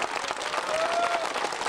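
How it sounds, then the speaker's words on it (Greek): Crowd applauding police officers at a street protest outside the Greek parliament, steady dense clapping throughout with voices and shouts mixed in under the applause. "Χειροκροτήστε αυτούς τους αστυνομικούς."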